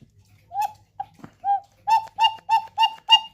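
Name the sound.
cuckoo clock's new bellows making cuckoo call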